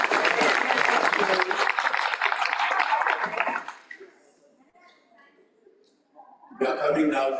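Applause from a graduation ceremony audience, loud and dense for about four seconds, fading to a quiet lull, then swelling back into strong clapping near the end.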